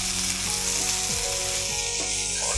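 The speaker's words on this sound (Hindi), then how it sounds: "सबसे पहले मैं डाल रहा हूँ रेड चिली सॉस" Red chili sauce hitting a hot pan of stir-fried mushrooms, a dense, even hiss of frying that holds steady and close for the whole moment, with a low tonal hum beneath and no voices.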